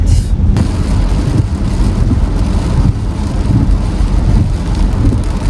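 Steady rain falls in a constant hiss, loud and close, with a low rumble underneath.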